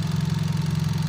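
A 2019 Hyundai Accent car engine idles steadily after a long crank, a close, continuous low rumble with an even pulsing rhythm and no talk.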